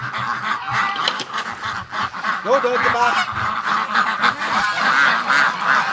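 A flock of domestic ducks and geese honk and quack excitedly as they are let out of their pen, close and loud, while a person calls to them over the noise.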